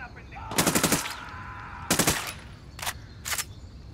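Automatic gunfire in Ghost Recon Wildlands: four rapid bursts of shots, two longer rattling volleys followed by two short ones, loud and sharp over a low game background.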